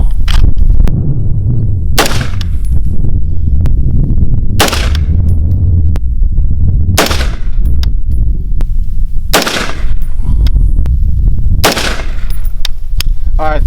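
An MK18 pistol fires Winchester 55 grain 5.56 ammunition in five loud, sharp shots spaced about two and a half seconds apart, each with a ringing decay and constant low rumble between.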